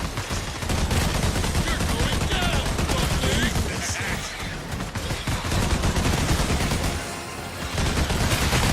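Rapid gunfire from the video game Synthetic Man, with dense bursts of shots rattling almost without pause over game noise, mixed with a player's voice.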